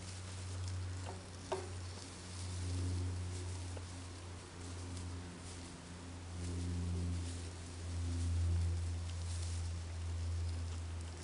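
Spam frying in a pan outdoors, a soft continuous sizzle with a low steady hum beneath and a faint click early on, quiet and even throughout.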